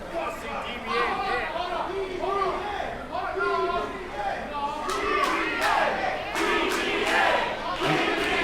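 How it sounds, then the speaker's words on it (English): Fans at an All Class Independent Wrestling show chant loudly for DBA in rhythmic, repeated bursts that fill the arena. "We got a crowd chant here for DBA."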